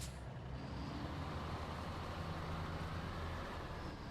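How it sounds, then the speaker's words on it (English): A huge all-wheel-steer Arctic Snow Cruiser mod truck in SnowRunner rumbles with a deep, steady, loud engine drone throughout, with no talking. "This is a big fucking truck."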